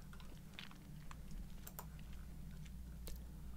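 Keys are pressed on a computer keyboard while someone works in music production software, producing a few faint, scattered clicks over a steady low hum.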